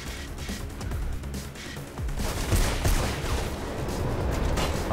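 Pistol and other gunfire in the first-person action game Mirror's Edge, a busy run of sharp shots and impacts from about two seconds on over a continuous game background, loud and close, with no talking.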